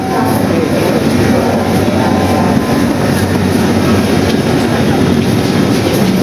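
A Dhaka metro rail train gives a steady, close, dense rumble of running rail noise with faint rhythmic clatter, continuous and unbroken, with no talking.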